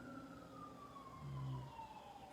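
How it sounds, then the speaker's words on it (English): A faint, distant emergency siren wails in a slow, falling glide, with a low rumble of traffic beneath it. "there's the sirens again"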